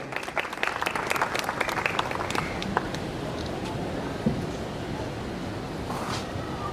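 Audience at a Minority Day conference in Karachi applauding steadily, a dense, even patter of many hands clapping at moderate distance, with a few faint voices underneath.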